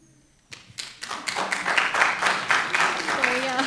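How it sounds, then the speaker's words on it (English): Audience applause at a US House candidate forum, starting after a pause and swelling into sustained, dense clapping from a room full of people, with a voice speaking over it near the end. "No applause till the end."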